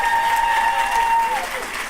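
An audience claps steadily at a commencement ceremony, a dense, sustained wash of applause that fills the room, with a faint held tone running beneath it.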